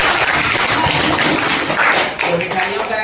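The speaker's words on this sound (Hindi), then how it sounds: "ताली बजाइए एक बार" Children in a school classroom clap for a student, a dense burst of small-hand applause that runs throughout and thins toward the end, with voices mixed in.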